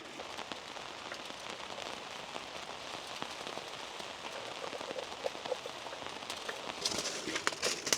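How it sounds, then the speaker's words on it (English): Rain patters on a campsite where food cooks over a covered fire, a dense crackling hiss of drops striking surfaces. The sound is steady and close and grows slightly heavier toward the end. "It is raining, people."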